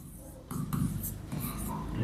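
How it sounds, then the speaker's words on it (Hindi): Marker or chalk strokes as a number is written on a classroom board, brief scratchy swipes close by, with faint talk in the background. "जैसे कोई संख्या लिखते हैं यहां पर"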